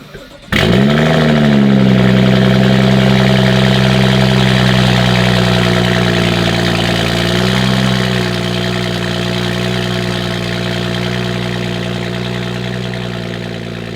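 A BMW 435i engine fires up with a sharp start, then settles into a loud, close, steady idle with a deep, even hum that holds for the rest of the clip.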